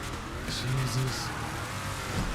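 A drag car launches hard, a loud, dense engine roar that stays close and sustained through the short burst, with voices audible over it.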